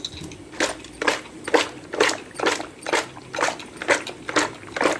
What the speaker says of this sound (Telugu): ఇప్పుడు ఇది మొత్తం ఒకసారి కదిలించుకుందాం